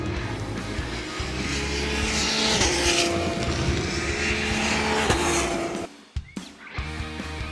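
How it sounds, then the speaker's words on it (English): Race cars on a motorsport circuit coming out of a corner some distance away, a sustained layered engine drone with rising pitches, then fading into quieter passing whooshes. "we've got the cars coming out of a corner, they're quite a distance away from us at the moment"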